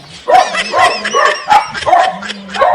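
A dog barks and yips repeatedly in quick bursts, close by, with some whimpering tones mixed in.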